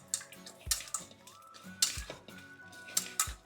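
A spoon scrapes and knocks against a metal pot while stirring a ground curry leaf and garlic spice mixture into cooked rice, giving several sharp, close clinks with softer scraping between them and no talk.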